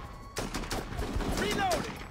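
Rapid bursts of automatic gunfire in the squad combat video game Full Spectrum Warrior, dense crackling shots in quick succession, moderately loud, with game voices shouting in the background.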